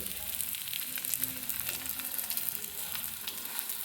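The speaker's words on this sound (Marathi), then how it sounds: "ही जी फोल्ड केलेली बाजू आहे ती तव्याला तेल लावून अशी या साईडने करून घ्यायची पहिले" A folded snack fries in oil on a hot griddle, giving a steady close sizzle with crackling spits and pops throughout and no talking.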